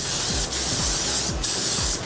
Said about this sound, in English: So we're gonna spray that on, and you wanna use a hefty amount, or I say a generous amount on the shoe.